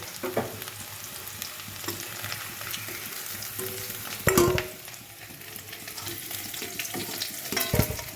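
Small potatoes fry in a pan and are stirred, giving a close crackling sizzle with scraping strokes and a louder clattering burst near the middle.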